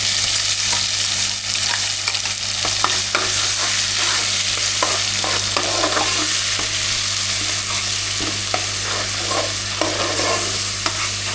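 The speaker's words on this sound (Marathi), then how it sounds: "ही पेस्ट आता आपण तेलामध्ये शिजवून घेऊ" A paste of coconut, green chili, coriander and garlic fries in oil, loud close sizzling over a low hum with repeated spoon scrapes and stirring knocks.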